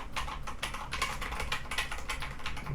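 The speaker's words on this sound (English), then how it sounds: "this thing has a hard bottom out and macro keys that get in the way. Slightly pingy, pretty loud." Fast typing on a loud mechanical keyboard with hard bottom-out and macro keys, slightly pingy; a dense, continuous run of sharp keystrokes, close and alone.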